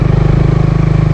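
A manual motorcycle's engine pulls steadily in second gear, a close, loud, even mechanical drone with a regular pulsing throb across one short stretch.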